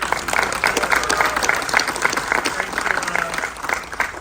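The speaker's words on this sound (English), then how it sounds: "give yourself a round of applause for being here" An audience at a Fast and Furious movie premiere applauds steadily, a dense, continuous patter of many hands clapping for a few seconds, with some crowd voices mixed in beneath.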